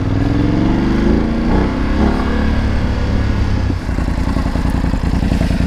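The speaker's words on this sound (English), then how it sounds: "It's a Remus exhaust. It does sound good on there, doesn't it?" A BMW F850GS motorcycle with an aftermarket Remus exhaust idles and revs with a throaty, rumbling exhaust note, loud and close, with some clattering throughout.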